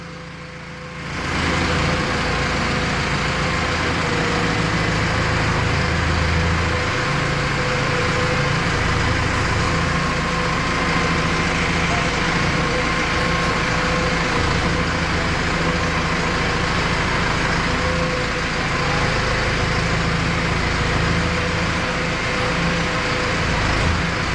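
A large four-wheel-drive tractor engine runs steadily close by, a loud, continuous low diesel rumble with no talk over it.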